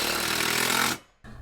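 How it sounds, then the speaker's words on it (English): Screw gun driving fasteners into metal board and batten siding on a DIY cabin, a loud, steady whirring burst for about a second that cuts off, then resumes briefly. "get the screw gun."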